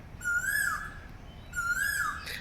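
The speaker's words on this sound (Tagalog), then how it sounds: "Ang ganda ng huni ng ibon." A bird in Kowloon Walled City Park, Hong Kong, gives two clear, rising whistled calls about a second apart, each ending in a quick downward slur, over faint background hiss.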